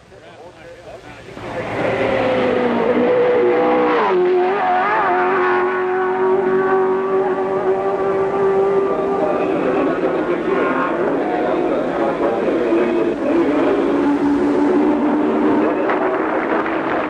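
Formula One race cars, Repco Brabhams among them, roar down the Nürburgring straight toward the chicane, a loud sustained engine note shifting pitch as they pass, with a commentator talking over it.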